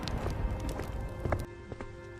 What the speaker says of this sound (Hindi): लखन जल्दी जल्दी अपने घर की तरफ दौड़ता है।